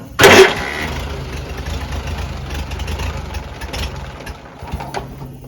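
A cold Farmall BN tractor, unrun for a long time, cranks with a loud opening burst, then keeps turning over and sputtering as it tries to fire, close and steady.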